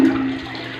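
A household toilet flushes right after its tank rubber flapper was replaced, with a loud close rush of water that settles into a steady draining wash.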